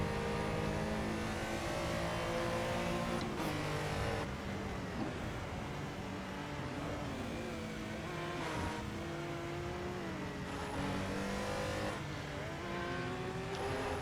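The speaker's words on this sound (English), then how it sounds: "Just seeing the Corvette go around there with the Porsche" Corvette and Porsche race cars lap the Snetterton circuit during a classic Super Cup race, engines droning and revving with rising and falling pitch through gear changes, heard steadily from onboard at moderate level without talk.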